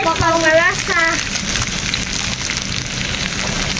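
Steady rain patters on a surface close by through an outdoor cooking session, a continuous hiss under a voice that speaks briefly near the start.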